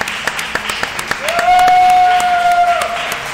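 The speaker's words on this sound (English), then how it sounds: "Another round of applause." A crowd applauds with scattered sharp claps at a Classic Tetris World Championship finals in Vancouver, while a sustained whistle-like tone rings out through the middle and voices carry underneath.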